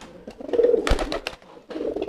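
A racing pigeon coos close by in a few short, throaty bursts, separated by a brief flutter or scuffling sound, with no talking.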